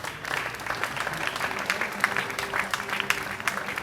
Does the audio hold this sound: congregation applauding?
yes